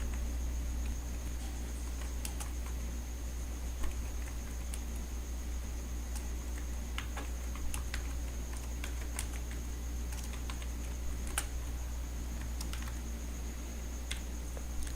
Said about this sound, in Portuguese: Vou digitar aqui um texto qualquer, só para exemplificar algo que eu preciso lhe mostrar.